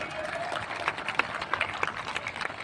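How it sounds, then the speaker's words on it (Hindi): Audience applause at a preliminary military training demonstration in Haridwar, Uttarakhand: a steady, dense wash of many hands clapping at moderate loudness, with sharper individual claps standing out and no break. "जोर से ताली हो जाए"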